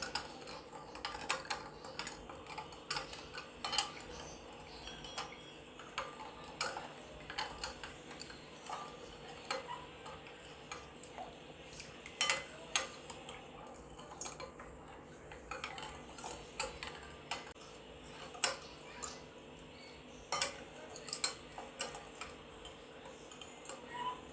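Milk mixture for kharvas being stirred in a bowl, a spoon making quick, light, irregular clinks and taps against the side, quiet and close, continuing for a long stretch.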